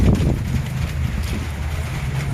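Strong wind, heavy rain and a fast rushing water current outdoors, merging into a loud, continuous low roar with heavy wind buffeting on the microphone and no talking.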